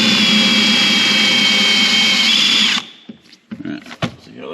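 A power drill bores out rivets on a Super ATV skid plate fitted to a 2021 Can-Am Commander, whining loudly and close for almost three seconds before stopping, followed by a few light metallic knocks and clatter.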